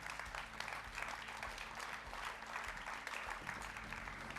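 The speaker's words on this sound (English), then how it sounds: "a round of applause for our junior world champions, please" A crowd at a motocross awards ceremony in Darwin, Australia applauds the junior world champions, the clapping continuous and busy throughout, with a few low thumps beneath it.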